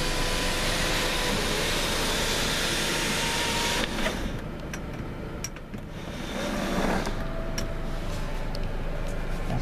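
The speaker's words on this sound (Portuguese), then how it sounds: "Teto solar. Ele abre tanto a abertura na parte de trás, como abre por inteiro também." The electric sunroof of a 2013 Chevrolet Cruze Sport6 LTZ opens, a steady motor whir running for several seconds before stopping, followed by faint clicks and quiet interior sounds.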